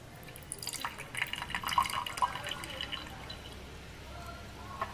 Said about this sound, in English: I can pour off the liquid